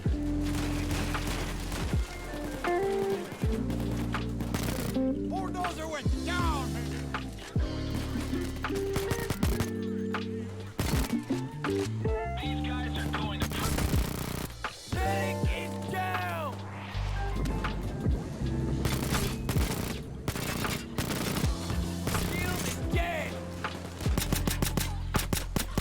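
Gecko pistol fire in the game Payday 2, dense bursts of rapid sharp shots and impacts layered over game effects and music, loud and nearly continuous.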